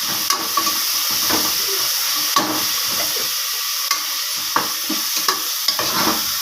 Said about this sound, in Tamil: தக்காளி எல்லாம் வதங்கி நல்லா வந்துருச்சு பாருங்கள், எல்லாம் நல்லா வதங்கிருச்சு